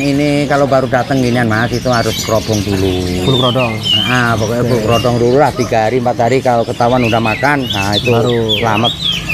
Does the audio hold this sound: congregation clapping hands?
no